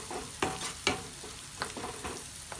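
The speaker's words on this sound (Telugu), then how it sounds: "సరి కలుపుదాం" A soya nugget Manchurian mixture is stirred in a pan over a soft, constant sizzle, with a few distinct scrapes of a spoon against the pan; close, with no talking.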